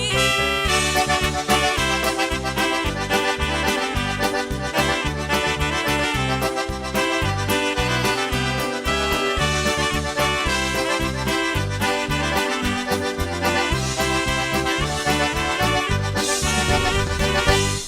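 The oldie polka song plays as a continuous, loud, full-band recording with a steady bouncing beat and no talk over it.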